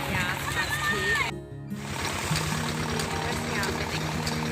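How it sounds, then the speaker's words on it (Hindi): A village tubewell pump runs steadily beside farm fields, its engine drone under continuous splashing and gurgling water, with voices talking over it and a brief dropout partway through. "बस यहाँ पे देखिए ट्यूबवेल चल रहा है।"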